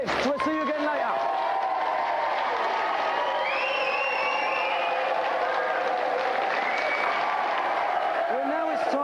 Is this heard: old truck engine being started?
no